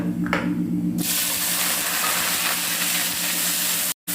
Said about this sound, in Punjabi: ਪਿਆਜ਼ ਪਾ ਕੇ ਹੁਣ ਭੁੰਨਦੇ ਆ